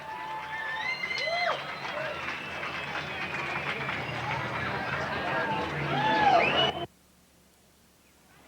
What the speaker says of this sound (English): give Tom Peterson a big round of applause